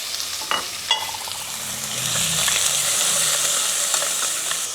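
Pork sizzles and crackles steadily in a hot pan, rendering its fat, with a couple of utensil clinks and stirring scrapes over the constant frying hiss.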